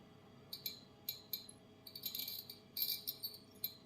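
Zoccee electric toothpick buzzing against a ceramic surface in short, faint high-pitched bursts, some doubled, over a quiet background hiss, no speech.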